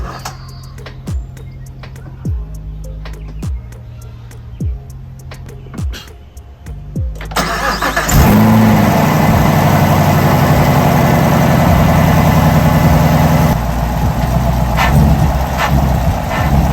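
Several ticking clicks, then a 2021 Chevrolet Camaro SS engine fitted with a Rotofab intake cranks, catches and settles into a loud, steady idle nearby.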